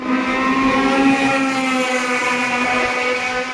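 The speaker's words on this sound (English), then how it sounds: "I do really want to change the straight pipe. It is extremely loud." A K20-engined Honda Civic with a straight pipe exhaust idles loudly, a steady droning rumble with a strong low hum and buzzing harmonics, close by and continuous with no talk.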